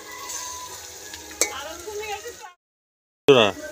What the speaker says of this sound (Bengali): পেঁয়াজটা নিয়ে নাড়ছি, পেঁয়াজটা নেড়ে যাচ্ছি।